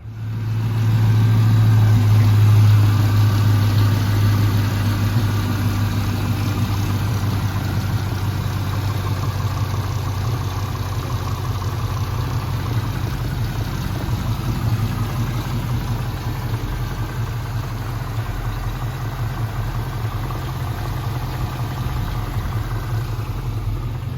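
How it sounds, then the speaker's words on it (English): A 1975 Chevrolet Camaro engine idling, a steady low rumble with a strong fundamental hum that starts loud and settles into an even, continuous drone, with no talk over it. "we're gonna get the engine started"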